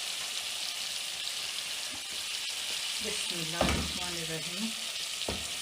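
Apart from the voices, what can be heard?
chicken added to hot pan, frying and sizzling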